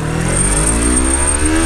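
A new 300cc two-cylinder motorcycle engine pulls away in first gear, revving steadily and loudly up close with rising engine tones throughout.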